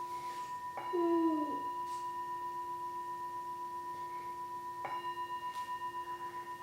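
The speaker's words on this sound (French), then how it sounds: "Il va écouter le son du bol." A singing bowl is struck twice during a children's yoga class, each strike ringing out in long, clear, pure tones that slowly fade in a quiet room.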